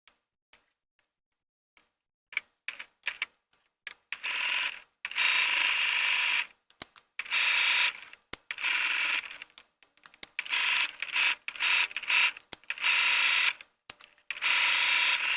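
A sewing machine stitches around the edge of a fabric pocket in stop-start runs: short whirring bursts at first, then longer steady stretches broken by brief pauses, fairly close and with no talking.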